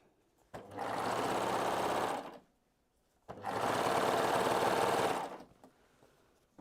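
Sewing machine running on the hem of Christmas pajamas, two steady whirring bursts of about two seconds each with a short gap between, close and clear without talk.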